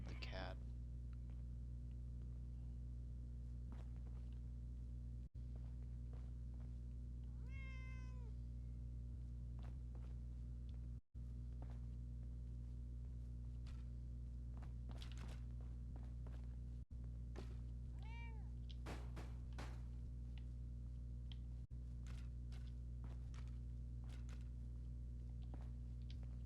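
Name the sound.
cat meowing in a video game (Fallout 4)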